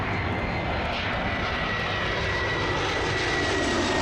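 A jet airliner comes in to land at Toronto Pearson airport, its engines roaring as a loud, steady, broadband rush that holds throughout with no talk.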